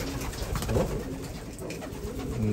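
A laying hen or egg-laying bird calls in soft, cooing bursts that repeat through the clip, close by and fairly clear over a steady background.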